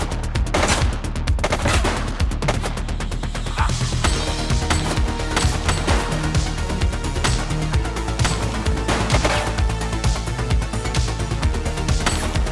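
Gunfire in The Precinct video game, loud rapid bursts of shots crackling over a busy backdrop of game music and noise, with sharp repeated reports packed closely together throughout.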